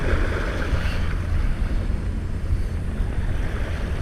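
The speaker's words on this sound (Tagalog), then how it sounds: "Actually napakalakas talaga ng hangin," Strong gusting wind buffets the microphone with a loud, low rumbling roar, a continuous blustery noise with no talking.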